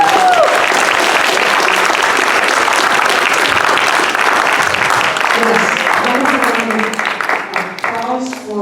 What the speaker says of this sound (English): Applause for Congressman.